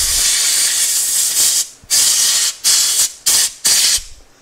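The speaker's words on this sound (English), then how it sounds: "I can take the air compressor and blow it right back in the box there" Close, loud bursts of compressed air from an air compressor nozzle blowing excess boiled linseed oil off scroll-sawn wooden fretwork, a long hissing blast followed by four shorter ones with brief gaps.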